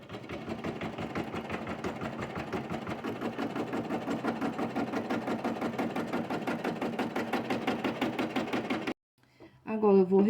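An embroidery sewing machine stitches a fabric batting onto a hoop with a fast, even, rhythmic chatter lasting about nine seconds, then stops abruptly before a brief clatter of handling.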